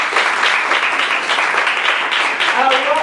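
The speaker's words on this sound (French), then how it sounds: "s'il vous plaît, on les applaudit" An audience applauds contestants at the Miss Afrique Montréal 2013 pageant, a dense, steady wash of clapping that holds loud throughout, with a faint voice surfacing near the end.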